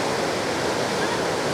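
Floodwater of the Merced River rushes in a loud, continuous broadband roar near the Yosemite west gate, steady and close with no pauses.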